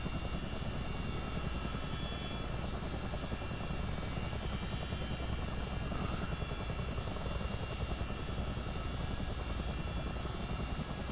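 Twin engines and rotors of a CH-47 Chinook helicopter in a flight simulator game hum loudly during shutdown, a steady, dense rhythmic rotor thrum with a constant engine whine, unbroken and close.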